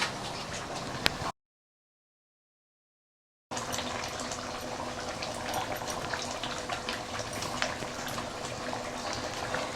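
Fish drops into boiling soy sambal in a pan, giving a steady wet bubbling sizzle with spattering, broken by a sudden gap of silence before the busy frying noise resumes, loud and close with no talking.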